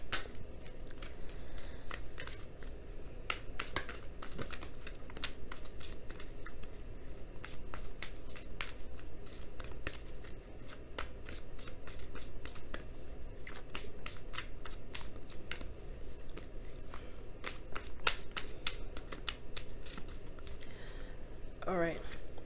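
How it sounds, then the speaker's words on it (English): Oracle cards are shuffled and pulled over a long stretch, a steady close flurry of riffling, snapping card clicks with brief pauses, with no talking over it. "let me go ahead and pull your Wisdom of the Oracle card for the week."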